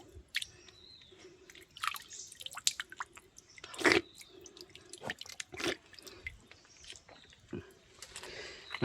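Natural spring water trickling from a rocky outcrop in rural farmland, sweet drinking water filtered down through shrubs. Irregular drips and splashes sound close and fairly quiet, with scattered sharper plops and no talk.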